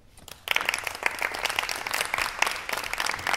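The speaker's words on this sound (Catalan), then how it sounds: "Fora aplaudiments." Audience applause at a Catalan stage performance of La visita de la vella dama: after a quiet half-second, dense clapping bursts in and holds steady and loud to the end, with no voices.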